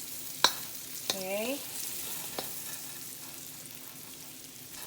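Onion sautés faintly in an old Chinese pan, a soft low sizzle broken by a few sharp clinks and a short creaking scrape from the pan shifting.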